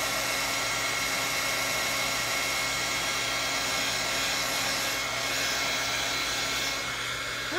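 Heat tool melting embossing powder, a steady close whooshing blower roar with a high whine that runs throughout without pause.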